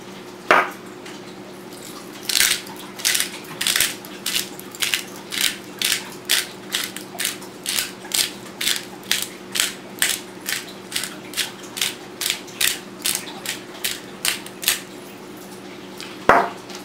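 Pepper grinder cranked over bite-sized pieces of fish, a steady run of about twenty short rasping grinding bursts in even rhythm, close and fairly clear, with a faint hum between them and a couple of louder clicks at the start and end.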